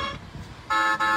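A pink toy ride-on Mercedes S63 AMG gives two short, loud electronic beeps of its horn, the second following a brief gap, after a moment of quiet handling noise.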